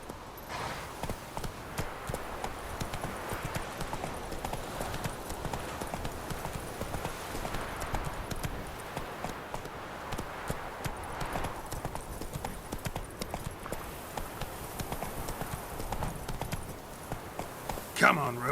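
Hooves of Roach the horse in The Witcher 3 clip-clop in a steady trotting rhythm throughout, with a voice speaking over the hoofbeats and game sounds.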